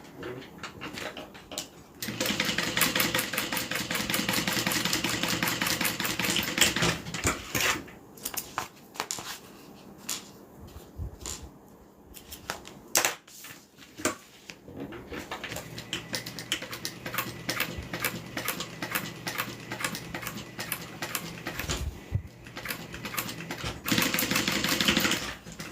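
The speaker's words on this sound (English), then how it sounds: "Going to just sew along the sides." A sewing machine stitches along the sides of a custom wallet-style piece, running in long steady rapid bursts of needle clatter with a brief pause and stop-start section midway before resuming at full speed.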